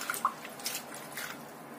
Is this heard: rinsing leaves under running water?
yes